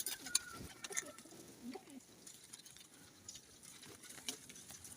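Soft Teddy pigeon cooing and fluttery bird sounds, faint against a quiet outdoor background.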